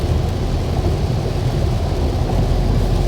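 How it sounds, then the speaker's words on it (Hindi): Heavy rain pours during a road trip on ghat roads toward Mumbai, a loud, dense, continuous roar of rainfall with road noise underneath. "और ऊपर से इतनी तेज़ बारिश।"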